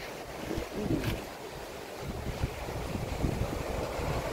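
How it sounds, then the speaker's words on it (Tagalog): Sea waves roll and wash at a beach camp in Agno, Pangasinan, as steady wind buffets the microphone in a continuous broadband roar, with no voices. "Ito yung dagat niya."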